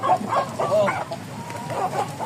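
Close, loud clucking from a large hybrid-breed chicken in short repeated bursts, a few agitated calls in quick succession with no talking.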